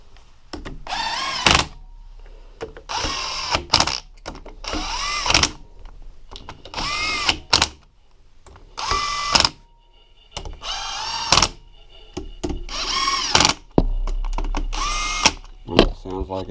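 Power tool running 8mm bolts down on a Yamaha YFZ450R engine during stator cover and flywheel assembly, repeated short bursts of drilling whir with pauses between, close and fairly loud.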